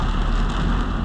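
Heavy rain from Typhoon Dindo pours onto EDSA, a dense, loud and unbroken roar of water on the road with no voices over it.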